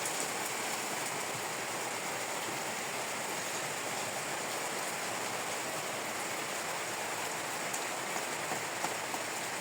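Steady monsoon rain pours down on a farming homestead, a dense, even hiss of drops on surfaces with no break, moderately close and without voices.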